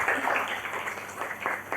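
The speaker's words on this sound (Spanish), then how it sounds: "Les pido un aplauso para los 3 panelistas que nos han acompañado." Applause for three panelists at an international seminar on gender equity in mining, a brief burst of clapping from a modest crowd, fairly close and uneven, lasting under two seconds without speech.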